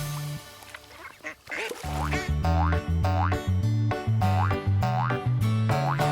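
Cartoonish duck quacks repeat in a bouncy rhythm over a plucky musical backing, loud and close, as part of a children's song.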